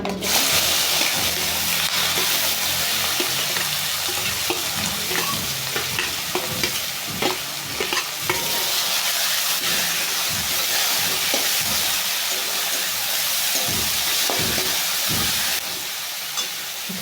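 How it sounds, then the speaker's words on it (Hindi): Onions and masala sizzling and frying in a pan for an egg curry, with steady loud hissing and repeated stirring scrapes throughout and no talking. "अब जो हम ये तैयार किए थे इसको डाल देते हैं। इसके साथ प्याज डाल देते हैं।"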